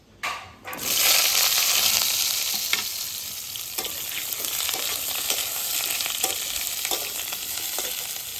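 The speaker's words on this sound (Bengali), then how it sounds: "একই তেলে আমি পটলগুলো ভেজে নেব।" Pointed gourd pieces hit hot oil in a wok with a loud burst of sizzling that settles into a steady, crackling fry, with occasional pops and stirring clicks, close up and uninterrupted.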